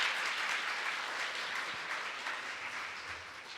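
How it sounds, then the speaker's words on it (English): Steady broadband applause from an audience at a live conference session, dense and sustained from start to finish, fairly distant and even with no talk over it. "Give them a round of applause."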